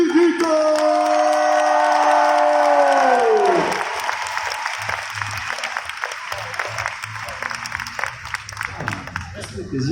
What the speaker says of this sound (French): Je vous prie de faire un tonnerre d'applaudissements pour porte-clé qui nous cosplay, Kirito!